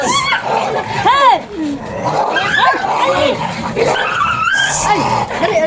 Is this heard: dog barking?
yes